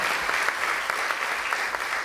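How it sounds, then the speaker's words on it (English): An audience at a gender-equality panel event applauds the panelists with a steady wash of many hands clapping, even and sustained without a break. "please join me in a round of applause for all our panelists."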